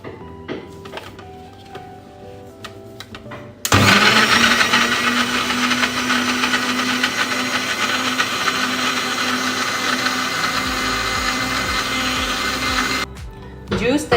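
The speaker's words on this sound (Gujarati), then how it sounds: "હવે આ મિશ્રણ તૈયાર છે, એને આપણે ક્રશ કરી લઈએ," A kitchen blender crushes a tomato juice mixture with a few drops of lemon, starting abruptly after a quiet stretch and running as a loud, steady whirring grind for about nine seconds before cutting off.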